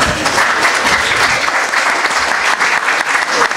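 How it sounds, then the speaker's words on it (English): An audience applauds after a Czech song, a loud, dense, even wash of many hands clapping close by for several seconds, with no voices on top. "It's good that you're applauding yourself."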